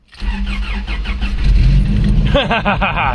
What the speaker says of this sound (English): And it fired right up like nothing ever happened.